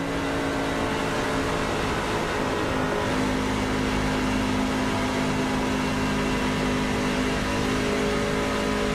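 A race car engine in the iRacing sim holds a loud, steady, buzzing drone with a strong tonal hum and slight rises in pitch, continuous and close for the whole stretch without speech.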